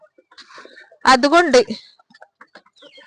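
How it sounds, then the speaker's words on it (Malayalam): A rooster on a small chicken farm set up in a former vegetable plot gives one loud, close burst of clucking, with quiet talk and scattered sounds before and after. "ഇതൊരു പൂവനാണ്."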